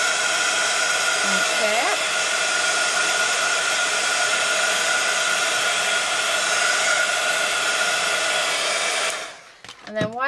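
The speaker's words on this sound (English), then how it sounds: "So I am going to put my heat tool on" A papercraft heat tool blows a loud, steady whooshing stream of hot air to dry a card, running continuously close by before switching off near the end; a voice speaks briefly.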